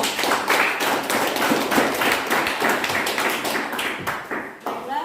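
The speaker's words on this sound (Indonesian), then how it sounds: "Tepuk tangan." A classroom of students claps hands after a group presentation, a dense, steady burst of many overlapping claps close by, continuing for several seconds before thinning out near the end.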